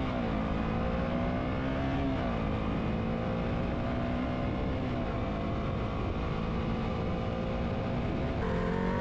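A motorcycle engine hums steadily and fairly loud during fast, smooth gear shifts, its pitch dipping and rising briefly at each quick shift with almost no pause between gears.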